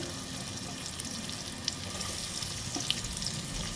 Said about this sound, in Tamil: அந்த எண்ணெயில் போட்டு நல்லா வதக்கிடணும்.